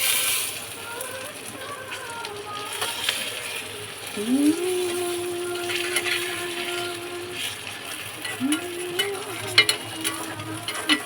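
Hilsa fish frying in butter with fried onions in a pan, a steady sizzle with scraping and stirring clatter throughout, while someone talks over it.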